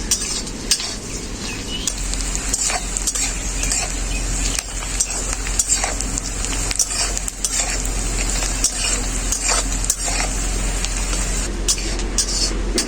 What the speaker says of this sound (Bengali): কাঁঠালের দানাগুলো আগে দিয়ে দিচ্ছি, তার কারণ একটু ভাজা ভাজা হয়ে গেলে ভালো লাগে খেতে।